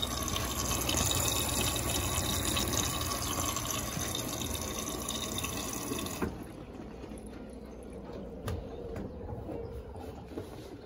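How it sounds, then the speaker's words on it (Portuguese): An Electrolux washing machine fills with water in a steady, loud rushing flow that drops abruptly partway through to a quieter trickle with a few faint clicks. "Vamos aguardar ela encher d'água."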